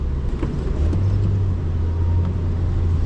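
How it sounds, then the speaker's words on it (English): Steady low engine drone of a manual-transmission car downshifting with the clutch held at the bite point, a smooth continuous hum and road rumble with no sharp revs or jolts. "When I downshift and I hold the clutch at the bite point, see, it's just dead smooth."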